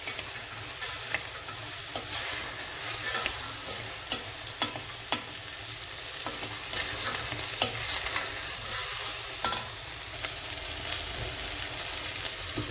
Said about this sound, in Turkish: Şimdi barbunyaları ekliyorum. Bunu da biraz çevirip